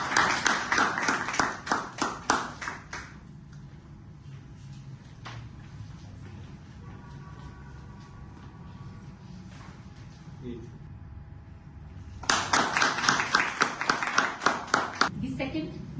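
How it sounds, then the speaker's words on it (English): Audience clapping at an anniversary ceremony during a certificate presentation: a burst of close, sharp hand claps for about three seconds, a quiet stretch with faint room sounds, then a second burst of claps starting around twelve seconds. "Please give a round of applause."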